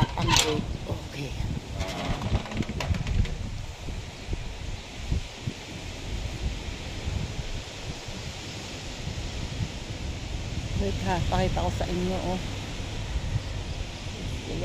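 Strong storm wind gusts and rushes steadily outdoors in a light drizzle, with a person speaking over it in a casual Filipino voice.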